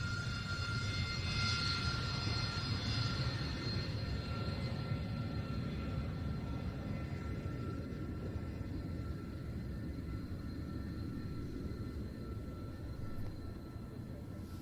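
Harrier jet flying a practice display at the RIAT airshow at RAF Fairford, a steady broad engine roar heard from a distance with a faint whine, continuous throughout and slowly fading near the end.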